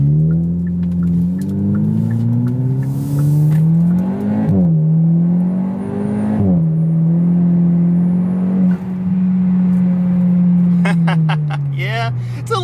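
A Hyundai car with a dual-clutch transmission, in sport mode, accelerates hard from inside the cabin. The engine note climbs steadily and drops sharply at two quick gear shifts, then holds a steady drone before easing off.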